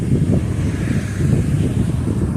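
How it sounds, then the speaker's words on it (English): Strong wind blows steadily outdoors between mountains, a dense low roar and rumble of gusts buffeting the microphone, loud and continuous with no voices. "gets very windy here, and I haven't been able to find a spot where the wind can block."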